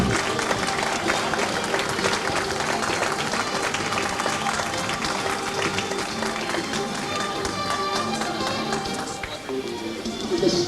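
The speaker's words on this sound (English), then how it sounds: "big round of applause." Wedding reception guests clap and cheer as couples are introduced, a dense, steady wash of applause with music and crowd noise mixed in, loud throughout the whole stretch.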